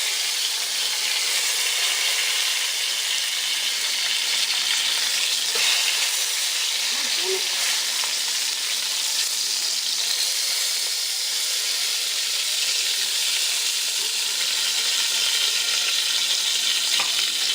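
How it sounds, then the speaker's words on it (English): Veal shanks for osso buco browning in hot oil in a pot give a steady, close, broadband sizzle and hiss that runs unbroken throughout, with a few faint clinks and no talking. "So I've got my last 2 shanks in there, and they're coming out now. They are browning up."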